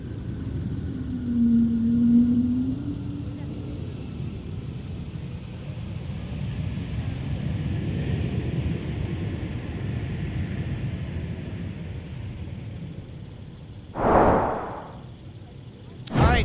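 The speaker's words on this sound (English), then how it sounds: "Shamu has arrived in the form of a Airbus A220" Delta Airbus A220 in 'Shamu' livery arriving and landing at MSP airport: a broad, steady rumbling roar holds at moderate distance, with a short louder swell near the end.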